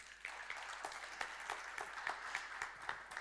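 A church congregation claps softly and rhythmically, heard faint and distant with steady, evenly spaced beats and no voices over it.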